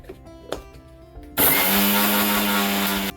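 A mixer grinder whirs to life after a brief quiet pause, loud and steady as it pulverises dry sesame seeds into powder in a small mixie cup, holding one sustained roaring pitch to the end.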